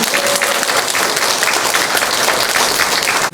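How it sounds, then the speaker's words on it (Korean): A church congregation applauds steadily and loudly at an anniversary revival service, dense clapping filling the space as the pastor is welcomed to the pulpit. "박수를 계속 치도록 하겠습니다"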